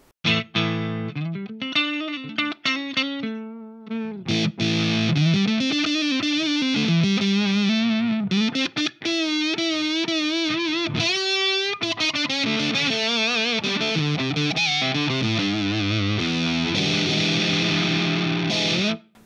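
Electric guitar played through a fuzz pedal into a modelled JTM 45 amp, thick and saturated, mixing quick riffs and sustained distorted notes with no talking.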